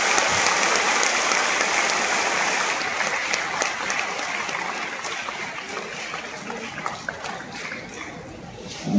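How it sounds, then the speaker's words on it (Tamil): Sustained audience applause fills a Tamil-language gathering hall, a dense, steady wash of many hands clapping at once that holds loud and even throughout before tapering slightly near the end. "எவ்வளவு பேர் உட்கார்ந்து இவ்வளவு கைத்தட்டு"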